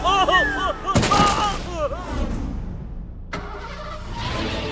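Animated cartoon car in a village scene starting up and speeding away: a loud burst of engine noise near the start, a roaring drive-off that gradually fades, then another sharp burst near the end.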